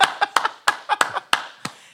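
A handful of sharp hand claps, about nine in under two seconds, close and fairly quick rather than slow, with a faint chuckle mixed in.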